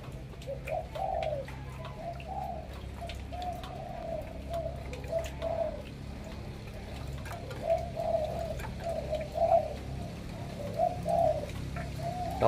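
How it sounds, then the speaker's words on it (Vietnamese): Repeated cooing of a spotted dove, its soft, rhythmic coo phrases coming steadily one after another at moderate distance over a low background hum, with no talking. "Con này thì bao gù, bao với anh em là bao gù nha anh em."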